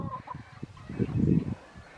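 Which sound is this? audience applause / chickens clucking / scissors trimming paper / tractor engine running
chickens clucking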